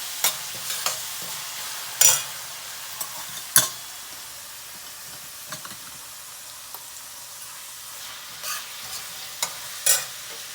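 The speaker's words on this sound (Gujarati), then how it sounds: "આ લીમડો ધોઈને મૂકેલો છે એમાંથી દઈશું વઘારમાં" Curry leaves sizzle and crackle in hot oil as a tempering for spicy sprouted mung beans, with scattered sharp pops and a few stirring clinks over a quiet hiss.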